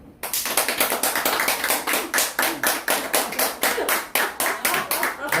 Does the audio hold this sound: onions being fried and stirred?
no